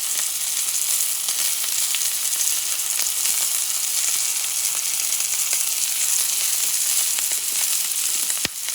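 A clove of garlic sizzles in a hot pan alongside thyme while cooking a buffalo sirloin steak, a loud, close, continuous frying crackle with small pops and no talk.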